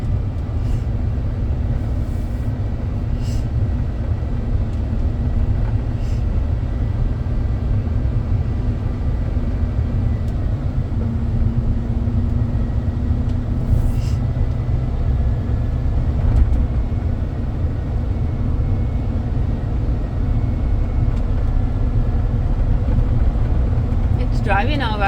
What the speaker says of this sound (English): It's driving fairly smooth for what it is.